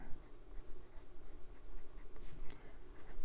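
A fountain pen with a number 6 size medium steel nib scratches steadily across Clairefontaine 90 GSM paper, a close, continuous soft scraping with brief stroke accents throughout, no voices.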